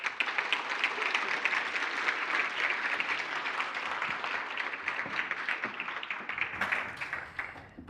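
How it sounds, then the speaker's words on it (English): A crowd applauds at a mathematics foundation awards function, with thick, continuous clapping that holds at an even level throughout and fades slightly near the end. "give a round of applause"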